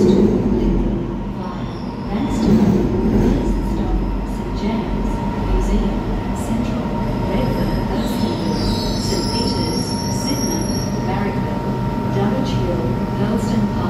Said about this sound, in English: The train on platform 2 goes to Lidcombe.